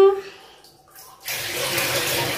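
A child bathing, tipping a mug of water over the head; after a short spoken line and a quiet pause, a steady close splash and pour of water runs continuously to the end.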